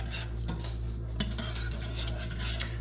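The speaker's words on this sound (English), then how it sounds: "Whisk it in there. Get all whisked up in there." A whisk rapidly scraping and clinking against a pot as roux is beaten into a creamed beef sauce, a busy metallic rattle over a constant low kitchen hum.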